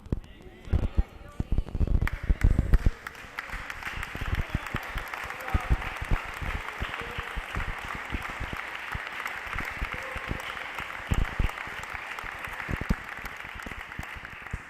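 A church congregation claps during a Spanish-language sermon, with dense, sustained applause. Sharp bursts stand out early on, then the clapping settles to an even patter that runs for the rest of the stretch.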